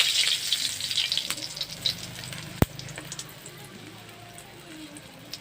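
Dried red chilies crackle and sizzle in hot oil in a pan while cooking a saag dish, a steady faint hiss with scattered pops and one sharp clack midway.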